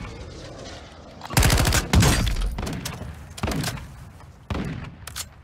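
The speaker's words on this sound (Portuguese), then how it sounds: "Não, o Vitor foi trocar tiro, velho." Bursts of rapid video game gunfire crackle in a few loud volleys separated by short pauses, sharp and close with game-like punch.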